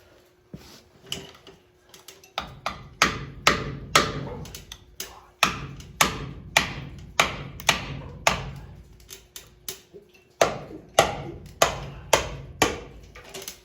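Steady metallic hammer blows ring out one after another at close range on a heated GM G80 locker rear end, a regular rhythm of sharp impacts with brief pauses between bursts.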